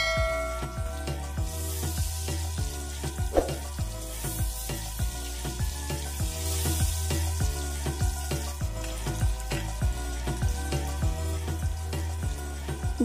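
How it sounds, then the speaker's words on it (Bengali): Halved boiled eggs fry in hot oil with turmeric in a wok, giving a steady sizzle and crackle that runs unbroken throughout, with no one speaking. "এবার একে একে অর্ধেক করে কেটে রাখা ডিমগুলোকে কড়াইয়ের মধ্যে দিয়ে দিচ্ছি"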